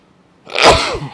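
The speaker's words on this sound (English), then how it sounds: "So my cold is at the point where I'm sneezing." A single close sneeze from a person with a cold: a brief, sharp burst that ends quickly after a short quiet lead-in.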